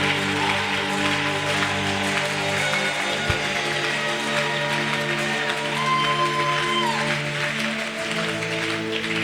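A church congregation applauds and acclaims steadily throughout, a dense wash of clapping and cheering voices with a sustained tone and music underneath.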